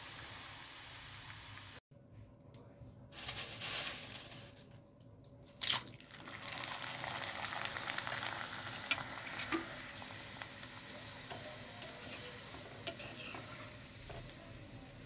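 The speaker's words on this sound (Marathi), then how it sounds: "आपण हे ॲक्च्युअली पोहे घालूया आणि मंद आचेवर कसे मस्त तळून निघाले" Sabudana poha is fried on a low flame for chivda, giving a soft continuous sizzle with stirring scrapes, light crunches and a few sharp clinks. The sound is fairly quiet, with a brief dip near the start.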